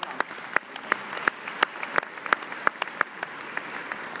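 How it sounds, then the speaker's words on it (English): Audience applause at a real-estate company convention, with sharp distinct claps in a steady rhythm over a dense wash of clapping, carrying on for several seconds. "That's really weird to clap at that"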